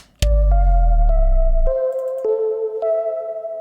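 A synthesized keyboard imitates a guitar intro with sustained, guitar-like tones, opening with a deep rumbling hit and shifting through a few held notes, loud and close.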